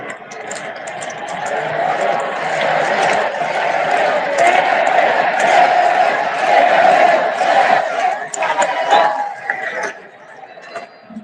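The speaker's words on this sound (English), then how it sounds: "A lot of clapping and celebrating right now." An arena crowd at a Trump rally at Capital One Arena roars, cheers and claps in a sustained loud swell that builds, stays full for several seconds, then eases toward the end.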